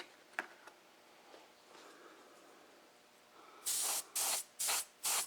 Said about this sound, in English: keep tweaking it until I see just a light mist coming out